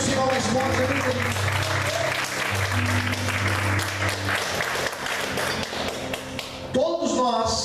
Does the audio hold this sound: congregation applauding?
yes